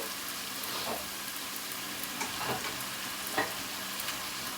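Cumin, garlic and onion sizzle and crackle steadily in hot oil, a dense close frying hiss with occasional pops and stirring scrapes, no voices.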